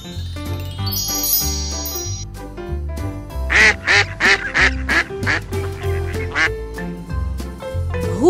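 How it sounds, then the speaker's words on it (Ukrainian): A duck quacks several times in quick succession, loud and close, over a light musical backing with chimes. "Качка."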